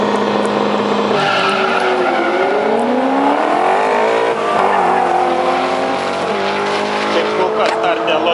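A Lotus Elise and a BMW race side by side at a 2012 Lithuanian drag championship round in Kazlu Ruda, engines roaring loudly and steadily with rising revs and tyre squeal, while an announcer talks over them.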